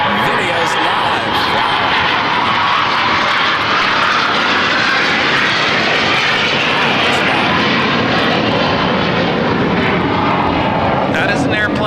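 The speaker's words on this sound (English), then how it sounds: "Probably the loudest corporate jet I think I've ever heard take off here." A loud corporate jet takes off at LAX, a powerful sustained roar of jet engines that fills the whole stretch at close range, with a person talking underneath.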